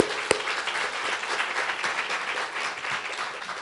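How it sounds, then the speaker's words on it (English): Audience applause for a participant at a neuropathy awareness day event, a steady moderate wash of many hands clapping with one sharp louder clap near the start. "Bev, give her a round of applause"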